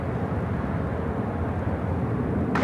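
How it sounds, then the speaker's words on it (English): A United Airlines Boeing 787-8 Dreamliner takes off at Chicago O'Hare, its engines a steady, broad, distant roar that holds level throughout. "This is United Airlines 3905 taking off to Washington Dulles on the 787-8 Dreamliner"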